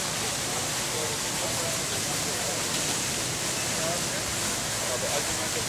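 Resort waterfalls spill beneath a bridge at the Grand Palladium in Punta Cana, a steady, even rush of falling water that holds constant throughout.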